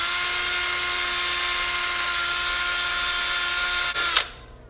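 A power drill whines steadily at close range for about four seconds, drilling a big hole in a 2015 Camaro side mirror, then winds down abruptly as it stops.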